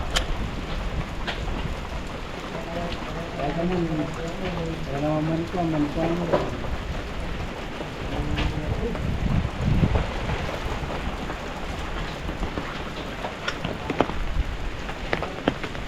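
Continuous typhoon rain falls with a dense hiss and patter, while muffled voices talk faintly underneath for a few seconds.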